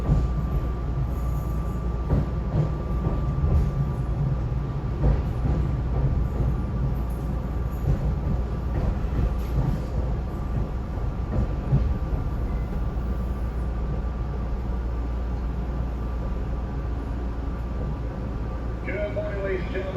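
A SEPTA commuter train runs on its rails with a continuous heavy rumble and steady wheel noise, and a faint squeal rises near the end.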